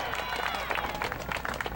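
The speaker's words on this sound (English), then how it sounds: "Give me a heck yeah and applause as loud as you can." Crowd at a Veterans Day parade at Fort Chaffee, Arkansas, cheering and applauding loudly on cue, a dense steady wash of claps and shouts over the full length.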